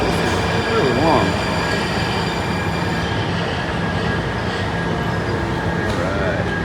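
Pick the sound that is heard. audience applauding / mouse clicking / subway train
subway train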